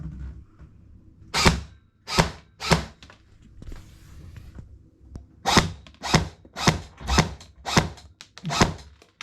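An airsoft replica Vickers machine gun fires BBs into a cardboard target, loud sharp shots cracking out one at a time, first three spaced apart, then a quicker run of about six in a near-even rhythm.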